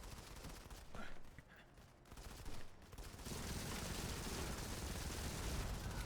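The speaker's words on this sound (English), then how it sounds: "And the bullets keep flying, the explosions all over the place" Dense, fast gunfire and blasts in the shooter game Modern Combat 5 during an online community match form a continuous rattling roar that grows louder and steadier partway through.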